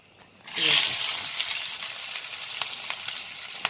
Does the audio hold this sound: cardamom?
yes